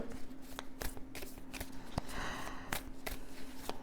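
Tarot cards handled and laid down on a table during a reading, one card placed over another; soft repeated shuffling and slapping card sounds with light rustle, close and fairly quiet, no talking.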